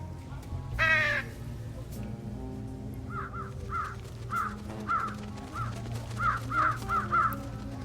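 Crows perched on an antenna in the adventure game Trüberbrook caw in a loose series of harsh calls over a low, steady ambient hum, with a brief higher chirp early on.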